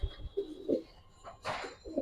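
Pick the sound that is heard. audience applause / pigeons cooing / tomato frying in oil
pigeons cooing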